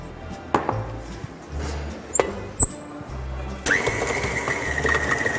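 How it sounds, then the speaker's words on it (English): A stand mixer starts up on softened room-temperature butter for a boozy Christmas cake: a few scattered clicks and knocks first, then the motor kicks in with a steady, close, whirring drone. No one speaks. "We'll start with putting a pre-softened room temperature butter into the mixer."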